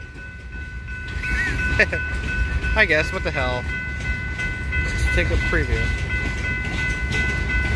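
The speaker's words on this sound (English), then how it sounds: "This is a long train on the Portland Western Railroad. Going fast." A long Portland and Western Railroad freight train rolls past fast in North Salem, Oregon, a steady loud rumble with rail noise held throughout, while someone talks over it near the middle.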